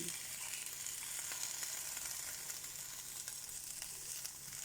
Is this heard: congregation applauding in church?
no